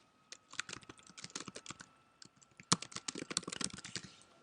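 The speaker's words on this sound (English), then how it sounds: "you get to type in your school name" Close, crisp keystrokes on a computer keyboard rattle out in quick uneven runs, entering a school name into an online form. Short pauses break the runs, one sharper key clack stands out, and there is no talking.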